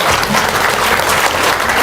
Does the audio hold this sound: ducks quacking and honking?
no